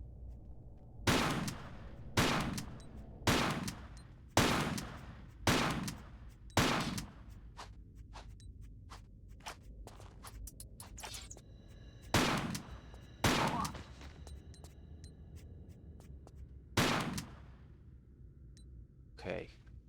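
Gunfire aimed at Lara in Tomb Raider: The Last Revelation rings out as sharp, loud single shots at irregular intervals, about a dozen in all, with quieter gaps between them.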